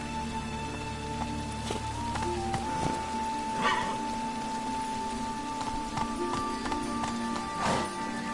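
Hoofbeats of Roach, Geralt's horse in The Witcher 3: Wild Hunt, galloping in a soft continuous clatter under a steady rain-like wash and game ambience, with no talking.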